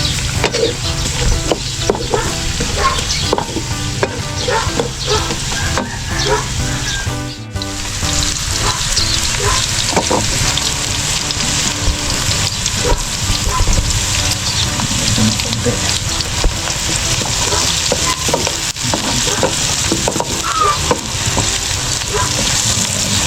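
Onion and garlic sautéing in butter in a pan, with a steady loud sizzle and frequent stirring scrapes throughout, broken by a short pause partway through.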